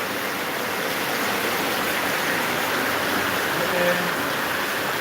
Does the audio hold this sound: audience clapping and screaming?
no